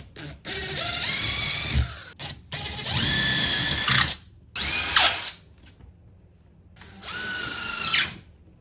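A power drill bores through tape stuck to a wall for hanging a picture, in four loud, steady bursts of whining motor separated by short pauses, with no talking.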